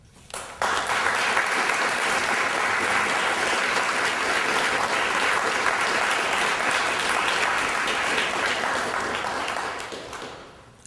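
Sustained applause from a seated audience at a book award ceremony, a dense, loud wall of clapping that starts abruptly and runs about ten seconds before tapering off.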